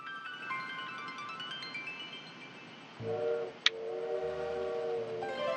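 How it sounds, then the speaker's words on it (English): A train from the video game Little Witch in the Woods sounds a sustained tonal whistle or horn over a steady background hum, with a short sharp accent partway through. Moderately loud, with no talking. "It really is the sound of the train."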